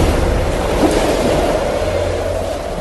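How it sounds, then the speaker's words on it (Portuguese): Strong wind blowing over rising sea waves, a loud continuous roar of surf and rushing air without breaks, used as a sound effect. "um vento forte começou a soprar e a levantar as ondas"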